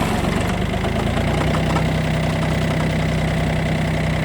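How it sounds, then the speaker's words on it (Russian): Yanmar F7 Japanese mini tractor with front loader, its diesel engine running at a steady, even idle with a constant low knocking chug, close and alone, no talk. "Довольно-таки легко трактор запускается, работает тихо и ровно."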